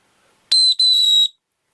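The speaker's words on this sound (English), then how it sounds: "your little whistle, this baby works very well" A small survival kit whistle gives two sharp, piercing shrill blasts, a short one then a longer one, loud and close in otherwise silent surroundings.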